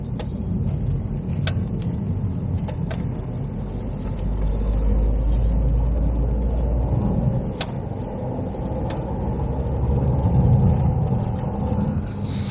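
A car rolls along a quiet country road between Wittersham and Appledore, steady engine and tyre rumble swelling as it accelerates out of a tight bend, close and continuous with no talk.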